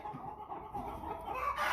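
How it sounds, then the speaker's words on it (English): American Bresse hens cluck in a close, steady chorus of overlapping calls, moderately loud, with no talk over them. "I wish these hens would shut up and let me speak."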